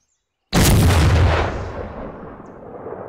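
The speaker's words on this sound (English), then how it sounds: "But for this, we're going to shoot her straight up in the air" A 13-inch sea coast mortar fired straight up into the air gives one sudden, very loud blast after a half-second of silence, followed by a long rumbling decay.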